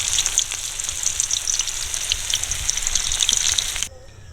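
Cabbage vegetable manchurian balls fry in hot oil, a dense, close, steady crackling sizzle with bubbling pops that cuts off abruptly near the end, leaving quiet.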